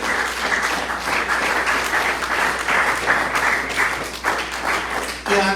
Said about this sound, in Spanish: Un fuerte aplauso a nuestro Señor.